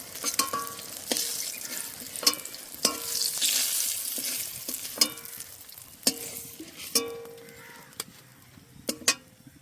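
Eggplant slices fry in hot oil with a steady sizzle, broken by sharp clicks and scrapes of a utensil against the pan as the pieces are turned and lifted out, close and fairly loud with no talking.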